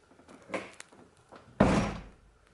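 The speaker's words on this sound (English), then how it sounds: "go ahead and shut the door here." A Corvette C5/C6 door with Corbeau Evolution X seats fitted is shut. Faint handling noises come first, then one loud, close thunk that fades quickly.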